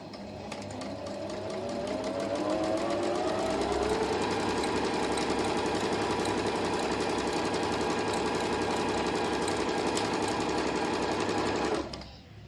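A Juki HZL-567 sewing machine stitches rapidly, its motor ramping up over the first few seconds into a steady, fast mechanical whir and clatter close by, then stopping abruptly near the end.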